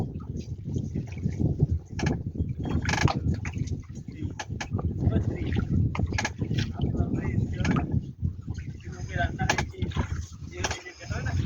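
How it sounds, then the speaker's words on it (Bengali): A passing fishing trawler's engine drones steadily close by at sea in the Bay of Bengal, with churning water and wind noise, while clattering knocks come and go over the low rumble. "বড় বড় ফিশিং ট্রলারগুলি যারা মাছ সমুদ্রে ফিশিং করে ওই ট্রলার কিন্তু আমাদের পাশ থেকেই যাচ্ছে"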